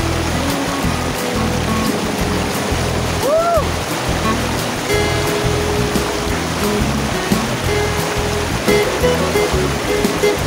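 Water at a deep lake in Laguna rushes and splashes steadily and loudly up close, forming a constant churning wash with no voices.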